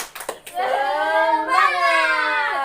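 A school class does the 'tepuk semangat' clapping chant: a few quick hand claps open, then young voices hold a long chanted call in unison, loud and close.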